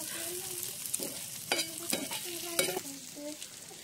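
Peanut chutney with added coriander being stirred in a pan over a wood-fired stove, a soft frying sizzle broken by several distinct scraping stirs of the spoon, close and alone.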